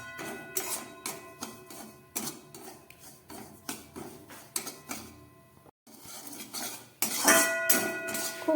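Semolina lightly dry-frying in a pan over low gas, stirred with a utensil that scrapes and clinks against the metal in steady repeated strokes, fairly close and moderately loud, with no talking.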